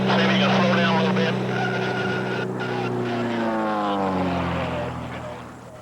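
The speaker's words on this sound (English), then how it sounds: "High overhead is this plane flown by Slobovian Dave Thomas." A small propeller airplane flies high overhead at a rural Mississippi airport in 1993, a steady droning engine hum sliding slowly in pitch as it passes, with someone talking over it.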